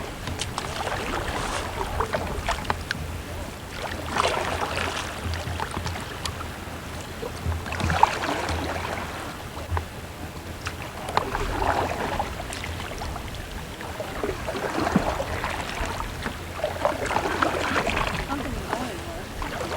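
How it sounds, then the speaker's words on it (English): A canoe is paddled up along the shore of Chamberlain Lake on the Allagash, with repeated soft paddle strokes and water swishes under wind buffeting on the microphone, while people talk intermittently nearby. "We got to canoe up the whole side here."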